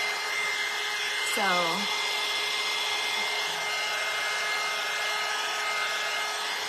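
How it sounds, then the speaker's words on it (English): Hair dryer blowing on wet paint on a scrap wood bunny head, a steady close whooshing hum running throughout, with a short voice near the start. "I'm just going to hit it with the dryer."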